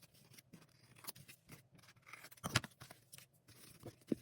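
Scissors snipping paper steps off for a junk journal, a series of close, quiet, uneven cuts with a sharper crunchy snip in the middle, no speech.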